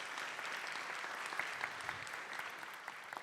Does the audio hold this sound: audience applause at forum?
yes